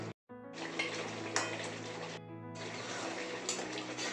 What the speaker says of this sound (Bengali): মাঝে মধ্যে একটু এইভাবে নাড়াচাড়া করে দিতে হবে।